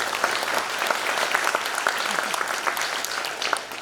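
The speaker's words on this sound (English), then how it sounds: "a big round of applause" Audience at a summit virtual reality panel claps steadily in a sustained round of applause, dense and even throughout.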